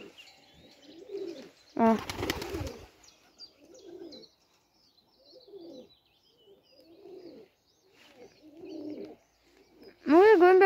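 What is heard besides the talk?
pigeons cooing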